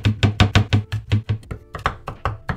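Knife chopping shallots on a board, about a dozen sharp, close, evenly spaced cuts in a quick steady rhythm, with nothing else heard.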